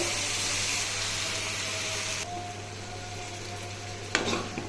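Banana flower fry with shrimp in a pan: a continuous loud frying hiss that drops noticeably midway, then a brief burst of stirring clatter near the end, with no talking.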